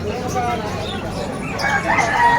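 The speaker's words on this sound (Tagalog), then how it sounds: "Ito yung mga ibon natin." Birds chirp and call amid a noisy, crowded weekend morning pet market in Hulo, Malabon, with a rooster-like crow and chatter of people in the background.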